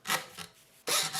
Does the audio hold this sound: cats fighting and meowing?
no